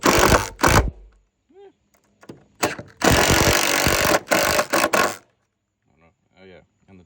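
A Milwaukee M18 impact driver drives screws in several loud, close bursts of rapid hammering, with short pauses between runs and a brief spoken voice in the quieter gaps.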